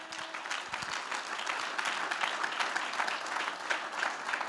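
A church congregation at a morning service applauds to acclaim the Lord, steady broadband clapping filling the room for the whole stretch without speech.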